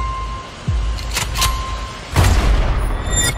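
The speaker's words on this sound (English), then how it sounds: "We are under fire." Explosions and gunfire in a film trailer, with a low boom followed by two sharp bursts and a heavier blast that leaves a loud, rumbling wash at the end.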